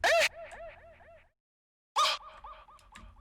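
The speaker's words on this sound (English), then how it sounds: "And then the last thing we added were some of these little vocal cuts" Two short bursts of chopped, pitched vocal cuts from Decap sample packs, each a bright attack followed by a quick stuttering chirp-like tail, with a silent gap between them.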